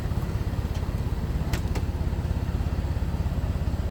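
Engine of a 1924 Ford Model T Coupe chugging with a fast, even, clattery pulse close by, a couple of faint clicks over it, then cutting off abruptly at the very end.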